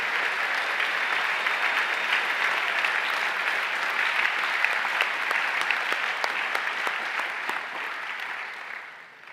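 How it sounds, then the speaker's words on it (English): Sustained applause from a school graduation audience honoring district staff members, dense and even, fading slightly at the end. "How about a round of applause for our staff members?"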